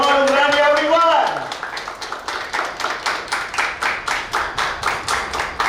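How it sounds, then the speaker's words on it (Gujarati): Audience at a Grace Youth Club talent show welcomes performers with applause: after a voice and music fade, a crowd claps in steady, rhythmic bursts that keep pulsing loudly to the end. "સો આપ બધાની અને અમારા તમામ બોર્ડ મેમ્બર્સની જોરદાર તાળીઓ સાથે"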